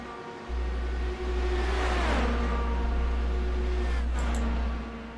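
IndyCar race cars at Road America in iRacing, engines revving loud and close as one sweeps past under braking into a corner, a low steady hum beneath and a short high whine near the end.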